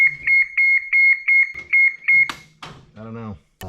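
A scissor lift's tilt alarm, warning of a severe slope, gives about ten rapid, evenly spaced, piercing beeps, loud and close, before it stops and a voice starts talking.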